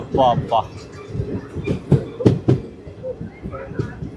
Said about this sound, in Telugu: ట్రైన్ వెళ్తుంది పక్కనే సముద్రం బ్రిడ్జ్ కూడా వచ్చేస్తుంది